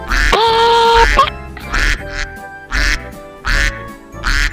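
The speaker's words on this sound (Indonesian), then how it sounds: "Bebek." A duck lets out one long call followed by a run of short, evenly spaced quacks, close and clear above a looping background beat.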